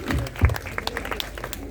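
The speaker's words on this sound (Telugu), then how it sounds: "వారు వేదిక మీదకి వస్తుండగా చప్పట్లు కొట్టి దేవుని నామాన్ని కనపరుస్తున్నారు." An audience at a religious gathering claps as a guest walks onto the stage, a short burst of applause under a low murmur of voices.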